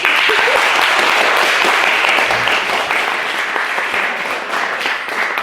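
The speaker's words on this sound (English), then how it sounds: "Dermot Hamill called for another round of applause for Terence." A debate audience applauds loudly and steadily for the full few seconds, a dense wash of clapping close at hand that fades slightly at the end.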